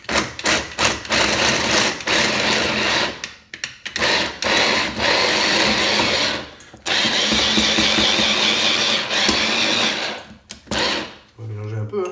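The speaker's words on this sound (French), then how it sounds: "je vais hacher ça fin avec ma moulinette" A moulinette food chopper whirs in loud bursts while mincing ingredients for kefta, short pulses followed by longer runs with brief pauses between them.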